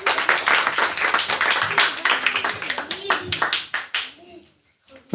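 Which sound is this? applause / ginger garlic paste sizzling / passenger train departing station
applause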